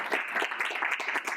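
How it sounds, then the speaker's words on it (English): Applause for two DJs at a DJ-culture event, a brief burst of close, crisp hand clapping from a small audience, steady and fairly loud with no voices over it. "So please, round of applause."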